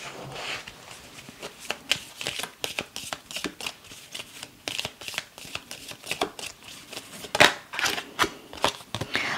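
Tarot cards are riffled and shuffled at close range, a rapid dry flutter of papery snaps and taps that continues steadily with no talking over it.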